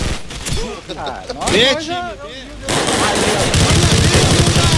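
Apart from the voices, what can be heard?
gunfire in the video game Call of Duty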